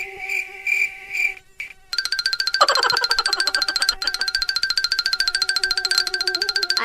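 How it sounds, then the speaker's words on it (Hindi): A cartoon mosquito buzzes in a shrill, rapidly pulsing drone that is loud and close, following a short burst of other whining tones, with no talking. "मच्छर कद्दू भाई को उठा के ले जा रहा है।"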